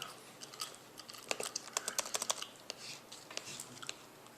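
Fingers tapping out an equation on calculator keys, a quick irregular run of light, close clicks that cluster into bursts, with no talking.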